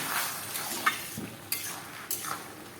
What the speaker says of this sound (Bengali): এটাকে আরও মিনিট দশেক আমি নেড়ে নেড়ে রান্নাটা করব